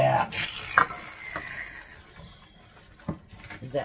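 A spoon works through a thick cupcake meatloaf mixture in a bowl, making wet, squelching stirs and occasional clinks against the side, close and moderately loud.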